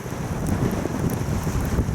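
Strong wind during a blizzard in the Netherlands, a steady, rough rush of gusts buffeting the microphone close up, with no voices.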